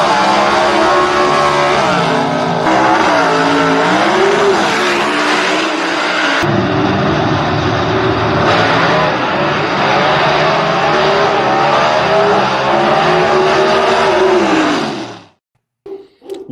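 Drag racing gasser cars at Gulfport Dragway roar through a long, loud launch at a Southeast Gassers Association race. The engine note rises and sweeps upward before cutting off sharply, followed by brief bursts.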